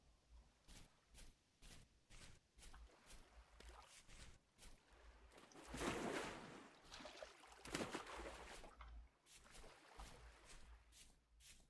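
A raft in the Vintage Story video game moves through shallow water in a series of soft, regular splashing strokes that swell into a louder, rushing wash midway, fairly quiet overall.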